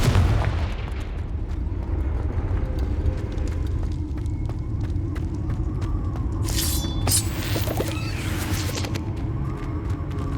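Confringo fire spell explosions in Hogwarts Legacy: a loud, continuous rumbling barrage of booms and bursts, with sharp crackles later on and no talking.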